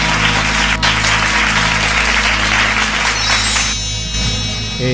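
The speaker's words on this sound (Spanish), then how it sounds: "fuerte la palma para Dios" A studio audience at a live singing-competition casting claps loudly and steadily. The dense applause fills the whole stretch, with a few cheers near the end.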